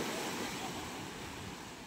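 Large ocean waves break at a fish terminal shore in Tanza, Cavite, making a loud, continuous roar of surf mixed with wind rumble throughout.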